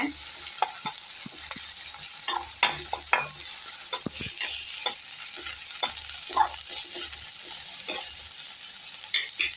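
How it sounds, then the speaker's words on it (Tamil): Vegetables sautéing in a pan for Chettinad paniyaram, with close, irregular stirring scrapes and taps over a soft continuous sizzle, no voices. "அதனால் நம்ம எல்லாத்தையும் வதக்கி போடுறோம்."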